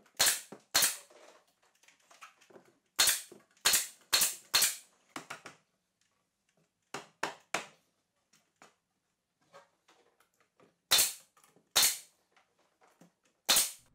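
A nail gun fires a string of sharp, loud, close cracks, sometimes in quick pairs or triples with pauses between, fastening vertical wood pieces while building overhead garage storage shelves.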